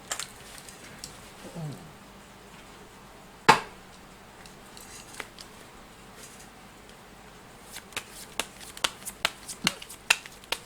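Fortune-telling cards shuffled and drawn for a daily horoscope reading: soft handling rustles, one sharp slap near the middle, then a run of quick crisp card snaps toward the end, close up.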